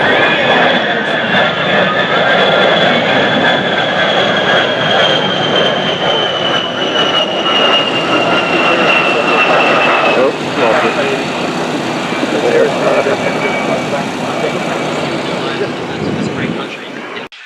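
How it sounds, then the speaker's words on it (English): An A-10 Warthog at an airshow, its loud, continuous engine roar and whine filling the whole stretch with a slowly shifting tone before fading out at the end. "Warthog has a well-earned reputation for strength and striking power."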